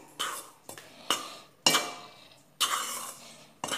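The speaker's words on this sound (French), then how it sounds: "Donc je vais pouvoir mélanger." A spoon clinks and scrapes against a bowl while a mixture containing powdered milk is stirred, giving several sharp, close taps at an uneven rhythm with short pauses between strokes.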